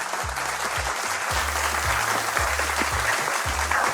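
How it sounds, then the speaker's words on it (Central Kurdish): Continuous studio audience applause on a TV game show, a dense, even crowd clapping sound with a repeating low tonal pattern underneath. "ئای کوا چەپڵەکانتان؟"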